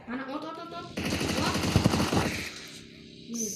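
Rapid automatic gunfire rattles out in a dense burst in PUBG Mobile, dominating the middle of the clip, with a player's voice and game sounds before and after.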